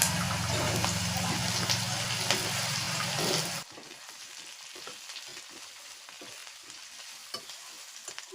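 Ivy gourd tossed into a hot pan with garlic gives a loud, dense sizzle for a few seconds, then settles into quieter frying crackle with scattered stirring scrapes.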